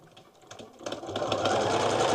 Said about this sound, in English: Make sure you sew it to the side of the colored square